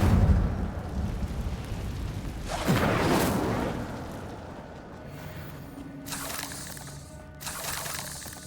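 An Incendio fire spell cast in Hogwarts Legacy, a loud whooshing, crackling burst of flame that flares midway and fades, followed by softer magical shimmering bursts.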